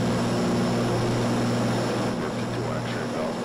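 Propeller airplane engine at takeoff power in a flight simulator, a steady loud drone with a constant hum throughout, nearing the rotation point.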